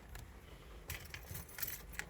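Car keys jangle as they go into the ignition of a 2006 Ford Explorer, a quiet run of metallic clinks and rattles in short bursts with no talk.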